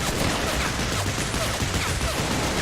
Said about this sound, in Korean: 이거 어디서 쏘고 있는 거야, 이거?